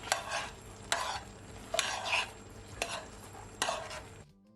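Apples simmering in a pot with a small amount of water on a stove at medium heat, with soft bubbling and a spoon stirring in a few distinct bursts, moderately close and fairly quiet.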